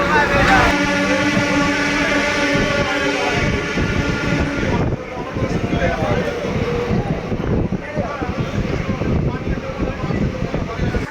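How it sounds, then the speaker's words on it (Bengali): Interior of a moving passenger train departing a station, a steady loud rumble with rhythmic clatter running throughout, joined by a dense harmonic whine early on, with people talking over it. "আমাদের ট্রেন এখন ছেড়ে দিয়েছে সারারাপল্লী থেকে"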